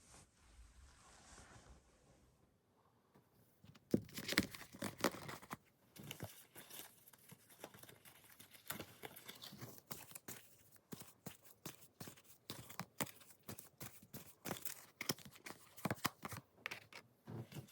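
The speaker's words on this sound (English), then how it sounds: "Let me shuffle really quickly and draw the first card." Oracle cards shuffled quickly, with rapid crisp riffling bursts and sharp snapping clicks after a quiet start, close by and moderately loud.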